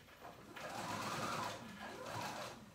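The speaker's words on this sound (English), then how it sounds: "I'm just baste stitching." A sewing machine runs a loose basting stitch through fabric, a fast continuous whirring chatter at close range that swells and eases in two runs.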